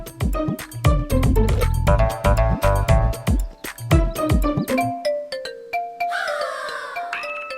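A loud phone ringtone plays a bright, chiming melodic tune of rapid repeated notes, ending in a sustained shimmering chime, with no talk over it.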